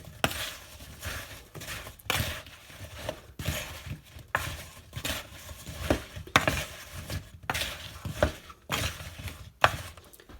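Chopped apples for applesauce tossed and stirred in a bowl, a run of close scraping, clattering strokes with brief pauses between bursts, no talking.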